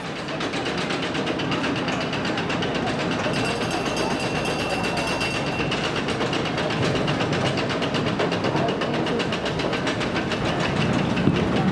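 The Whip ride at Kennywood amusement park running, a steady loud mechanical rumble with continuous rapid clattering from its cars, sustained and close throughout.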